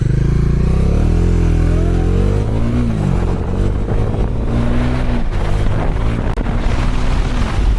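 A 2025 Bajaj Dominar 400 motorcycle accelerates hard through the gears on a speed run, its engine note climbing steadily with each shift under steady wind rush, loud and close throughout.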